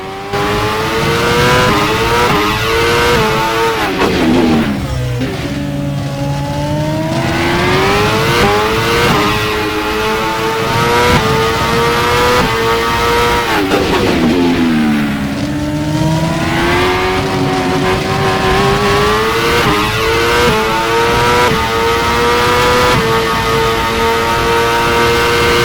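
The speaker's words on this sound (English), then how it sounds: "Mercedes MGP W01 from 2010 season." Mercedes MGP W01 Formula 1 car from the 2010 season, its engine screaming loud and close through rising and falling revs, with sweeping pitch changes as it shifts gears and brakes, sustained throughout with no talking.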